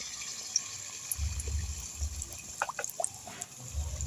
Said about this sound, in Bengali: একই কড়াইয়ে চার পাঁচটা পিঠে ভাজা যায়